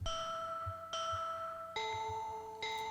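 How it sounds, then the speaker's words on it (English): Layered synth bell lead built from DSR and CZ instruments combining two different bell sounds, playing four sustained bell notes in a slow melody, each with a clear attack and ringing overtones, fairly quiet and without voices. "I did add another lead sound, this bell. It's just the DSR and the CZ layered together with two different bell sounds"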